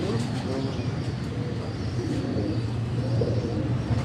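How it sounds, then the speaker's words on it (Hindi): Pigeons coo softly on a Karachi rooftop, a steady low murmur of several birds close by, with someone talking over them. "एक पक्का मजबूत कबूतर, ज़बरदस्त"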